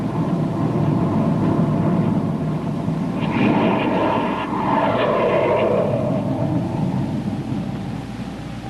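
Rocket ship jets firing at blast-off as a radio drama sound effect: a steady, loud roaring rush with a rising whine in the middle, sustained throughout and fading slightly at the end, with no voices.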